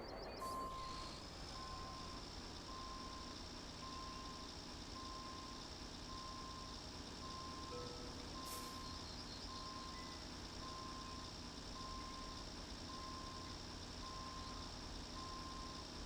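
Regular reversing beeps from a truck in Roadcraft, evenly spaced single tones repeating steadily over a constant engine drone, heard without speech.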